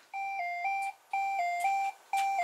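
Kitchen timer from a McDonald's lucky bag playing its alarm melody: a bright electronic two-note chime pattern repeated three times in quick rhythm, clear and close with no talk.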